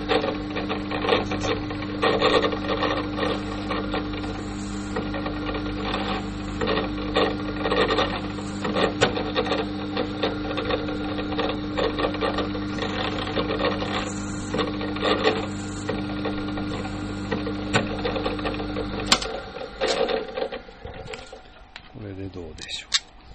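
Screw holes in a Stratocaster pickguard being chamfered: a continuous close, gritty rasping with a steady underlying hum runs for about nineteen seconds, then stops, leaving quieter handling noises.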